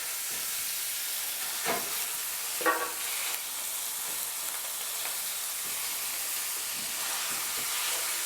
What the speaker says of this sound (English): We're going to cook the beef and the sausage together,